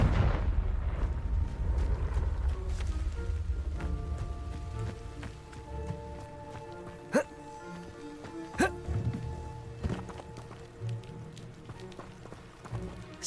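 A Confringo blasting spell exploding in a video game: a few sharp, loud cracks and bangs stand out over a steady low rumble and background game sound.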